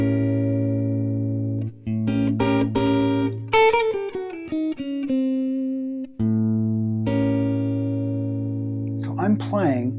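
A dominant 7 flat 9 chord sounded in A, held notes with a chord change midway, a run of short plucked or struck notes, then the held chord returning with a brief wavering high flourish at the end.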